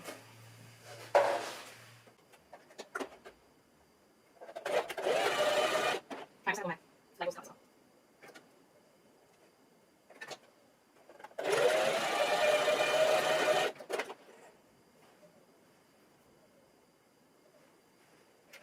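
A sewing machine stitches fabric for an extra-large scrunchie in bursts of steady whirring, a short run, then longer runs with pauses between, and a person talks during the gaps.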